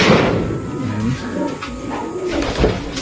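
Pigeon hens cooing in a loft, several close, loud throaty coos rolling over one another, with a faint thump and a bit of background noise.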